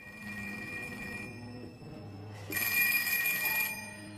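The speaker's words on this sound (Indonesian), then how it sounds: "Namun tiba-tiba, sebuah telepon berdering." A telephone bell rings in a tense drama scene, a loud burst of ringing starting partway through after a quieter stretch of low background rumble, alone without voices.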